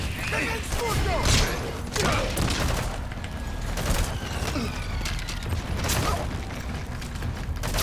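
Gunfire in the video game Metal Gear Solid V: The Phantom Pain, repeated sharp shots and bursts scattered across a noisy battle scene with booms and mechanical clatter, moderately loud.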